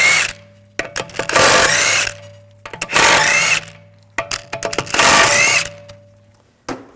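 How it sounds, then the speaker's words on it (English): Lug bolts on an Audi S4 wheel spun off with a power tool and 17mm socket, three loud whirring bursts of a couple of seconds each, separated by short pauses and clicks, close up. "Using a 17mm socket, take the lug bolts off."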